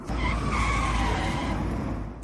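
A Renault car scraping along a road barrier at low speed, a sustained harsh grinding screech lasting about two seconds, loud and close, with no talk.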